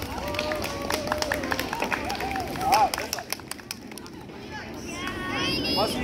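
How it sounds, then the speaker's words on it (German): An outdoor crowd at a gladiator show at an autumn festival claps and cheers, scattered hand claps mixing with chatter and children's voices, while faint whistling tones float above. "Ihr dürft gern klatschen."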